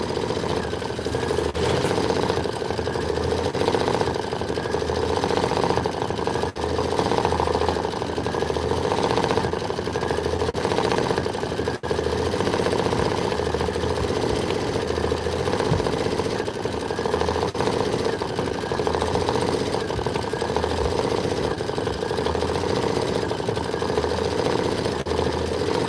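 An embroidery sewing machine stitching a Kimberbell Let It Snow pillow design, running as a steady, loud mechanical whir with a fast needle rhythm. It continues unbroken and unattended with no talking.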